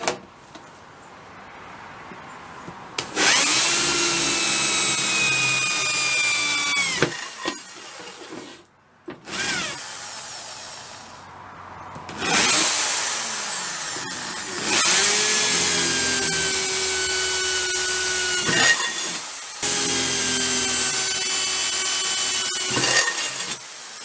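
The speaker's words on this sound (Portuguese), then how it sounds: "Marquei o buraco e depois fiz vários furos com a furadeira." A power drill bores several holes through an old aluminium kitchen container, its high motor whine starting and stopping in about four bursts with brief pauses between them, loud and close with no talking.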